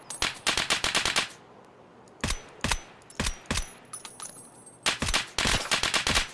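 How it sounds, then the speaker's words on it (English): Gunfire in Escape From Tarkov: loud, sharp shots in fast strings, an opening rapid volley, then spaced single cracks and another quick burst at the end, fairly close. "I have shots coming at us."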